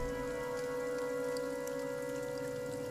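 Steady rain falling at night as a drama sound effect, a constant even wash of drops on surfaces with a low, continuous hum beneath, moderately quiet throughout with no voices.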